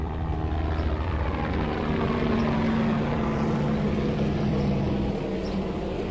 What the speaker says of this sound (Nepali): Wow, helicopter.